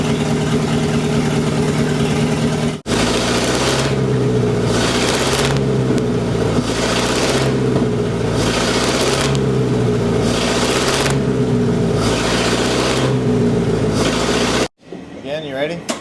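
A worn 1939 Buick mine car engine with badly blown piston rings and heavy blow-by, running with a steady rough chug at close range, cutting out briefly, then running on before a sudden stop near the end.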